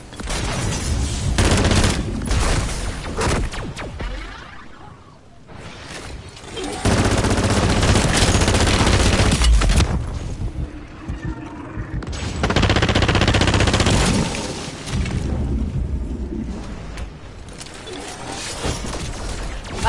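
Heavy weapon fire in MW3 Zombies, long sustained bursts of rapid gunshots that stop briefly and start again, loud and dense with mechanical clatter and a faint voice underneath.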